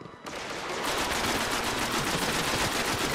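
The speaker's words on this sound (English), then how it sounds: "So I'm gonna jump down and shoot." Sustained rapid gunfire from the video game Destiny, a dense continuous burst of shots that starts abruptly and holds loud and steady throughout, with no talk.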